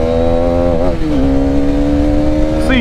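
A Hero Karizma XMR 210 motorcycle engine idling loudly and steadily, with a brief rev that dips and settles back into a deep, continuous rumble.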